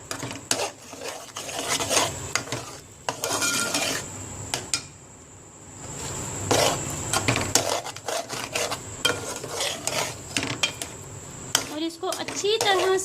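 Rice flour dough being mashed and mixed in a bowl, with repeated scraping, rasping rubs and clinks of a utensil against the bowl at a steady pace, close up and moderately loud.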